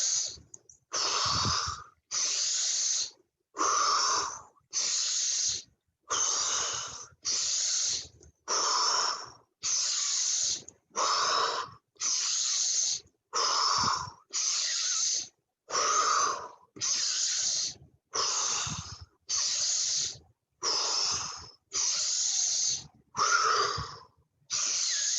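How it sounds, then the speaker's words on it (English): Deep, rhythmic breaths in a medical qi gong exercise, about twenty strong hissing inhales and exhales in a steady cycle with short pauses between, close and loud, with no talking. "deep breath."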